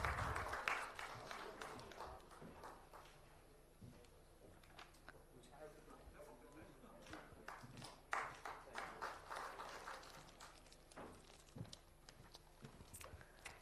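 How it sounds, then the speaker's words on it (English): A conference audience claps during a bouquet presentation at an EV manufacturing workshop, steady scattered applause swelling in waves, with chatter and a speaking voice mixed in. "Let's give it a louder applause."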